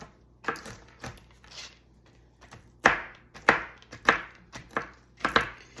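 A big kitchen knife chops walnuts on a board for a topping, a series of sharp, close knocks, sparse at first and then in a quicker irregular run of about a dozen cuts.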